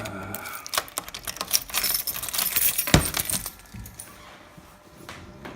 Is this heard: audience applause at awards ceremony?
no